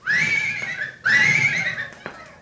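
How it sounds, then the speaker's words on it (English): A racehorse, the champion pacer Dan Patch, neighs twice in a loud, close whinny, each call rising and then trailing off, with a faint hoof clop at the end. "Take a good look at that horse, Jerry Kincaid."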